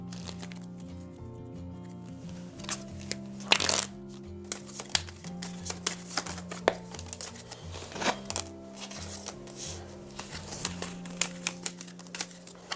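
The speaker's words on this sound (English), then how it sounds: "Make sure that I shuffle them pretty good here." A deck of tarot cards is shuffled by hand close up, with soft riffling and patter in uneven bursts over a steady background of soft music.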